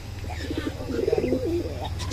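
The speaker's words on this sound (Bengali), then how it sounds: "অনেক সুন্দর কবুতর।" Pigeons at a bird shop coo in soft, throaty rolling phrases, close by, over a low steady background hum.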